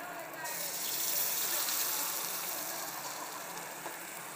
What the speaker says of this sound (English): I'm gonna add the soup that's already in the pouch that I already have pre-measured out.